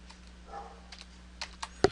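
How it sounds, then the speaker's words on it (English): A short run of keystrokes on a computer keyboard as a code is typed, a few soft scattered clicks ending in one sharper, louder tap, close by in a quiet room. "I'm going to go type in my little code."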